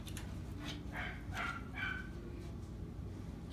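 A dog at a rescue gives a few short barks and yips from a moderate distance, brief and rather faint over steady background noise.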